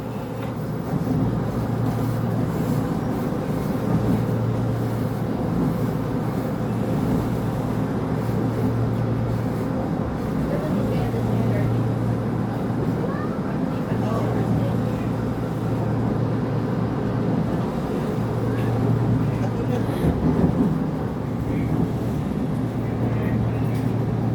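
Steady low rumble and rattle inside a moving Megatren passenger train arriving at Santolan Terminal Station, with a constant hum and faint clanks throughout, no clear talk.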